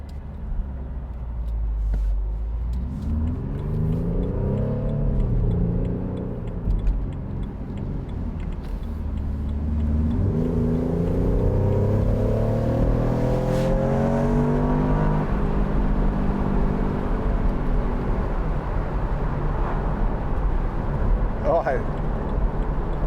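A 2014 BMW Z4 sDrive28i M Sport engine revs and pulls through rising sweeps while driving, then settles into a steady drone, heard from inside the cabin with someone talking over it.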